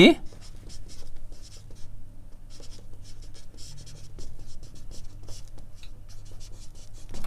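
A math proof written out by hand, pen or chalk scratching in quick irregular strokes, close and continuous under a person talking.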